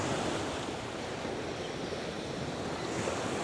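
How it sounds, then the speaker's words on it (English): Ocean waves crash and wash in a steady roar of surf at a beach, broad and continuous with a slight swell near the end, mixed with some wind noise and no talking. "you can listen to the waves crashing"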